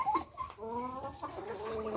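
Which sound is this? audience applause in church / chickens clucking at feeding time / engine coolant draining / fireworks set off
chickens clucking at feeding time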